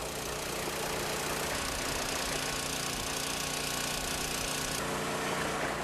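A water pump engine pumping seawater out runs steadily throughout, a continuous mid-pitched mechanical drone with a faint knocking rhythm and no voices.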